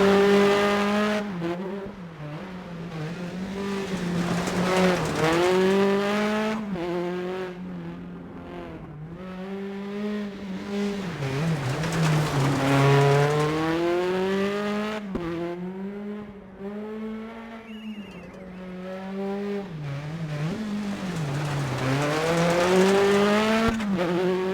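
A rally car in the DiRT Rally Winter Wonderland update, its engine revving up and down continuously through gear changes over a snowy stage, loud and close with occasional tire noise.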